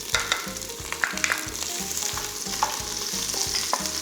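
Onions tossed into a pan of browning crushed garlic for pancit canton, sizzling loudly and steadily up close while a utensil stirs in regular strokes, no voices.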